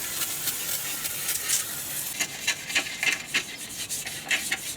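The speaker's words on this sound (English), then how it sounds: "So the first thing I've got to do is degrease it." Close scrubbing of grease and gunk off a Yamaha Virago 250 motorcycle chain guard, first a continuous rasping rub, then quicker uneven strokes toward the end.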